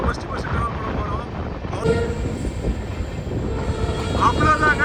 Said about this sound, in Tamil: புது பாலத்தில் இப்போ நம்ம ட்ரெயின் போயிட்டுருக்கீங்க